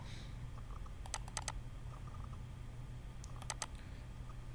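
Keys tapped on a computer keyboard while entering a spreadsheet function, two short bursts of quick, faint clicks separated by a pause over a low steady room hum.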